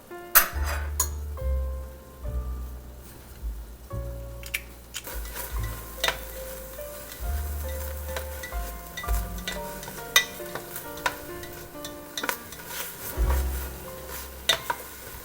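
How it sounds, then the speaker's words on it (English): Garlic and celery sauté in a pan, giving a soft sizzle under frequent stirring, utensil clinks and scrapes against the cookware, close and moderately quiet, with no talk. "At this point you can turn the heat back up to saute this vegetable."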